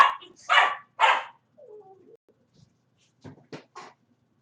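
Dogs bark indoors: three loud, close barks in quick succession, then a softer whine and a few quieter yaps after a pause.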